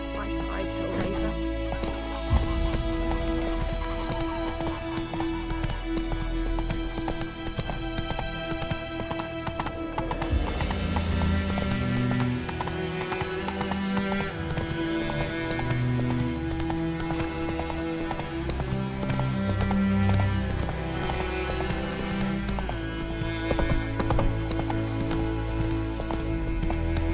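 Roach, the horse in The Witcher III, gallops with rhythmic clip-clop hoofbeats under game music, with occasional other animal calls mixed in.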